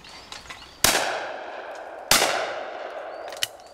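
Two sharp rifle-like gunshots ring out about a second apart, each with a long decaying echo, aimed at distant targets in an open setting; a faint click and small knocks sit between them, with no talking.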